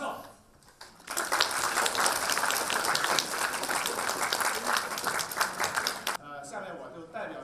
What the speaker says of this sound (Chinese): 下面，请我们以热烈的掌声欢迎美籍华裔国际传播学者